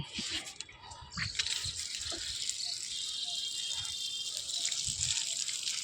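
Water poured onto a newly planted garden plant outdoors, a steady broad gushing splash running continuously and fairly close throughout, with faint background noise.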